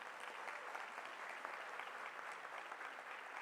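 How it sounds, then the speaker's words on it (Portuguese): Steady, dense applause from an audience at a launch event for a women's map in Rio de Janeiro, holding at an even level throughout with no voices over it. "Palmas para esse mapa, gente."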